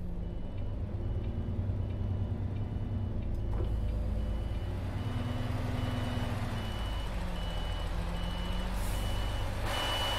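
Reversing alarm of a MAN TGX E6 truck in Euro Truck Simulator 2, a steady series of high beeps repeating over a constant low diesel engine rumble, with no talking.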